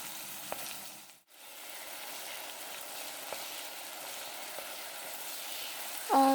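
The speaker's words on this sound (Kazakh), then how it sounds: "Және де үстіп қуырып аламыз." Meat frying in vegetable oil in a hot pan as it is stirred, a steady broadband sizzle with a few faint clicks and a brief dropout, close and alone.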